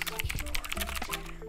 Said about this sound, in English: let's do a little typing test.